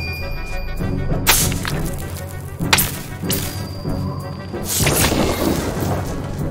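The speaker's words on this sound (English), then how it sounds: "Arc lightning." Arc lightning spell effect in The Banner Saga, a turn-based fantasy strategy game: three sharp crackling electric strikes with whooshing bursts, separated by about a second and a half, over a steady low musical bed.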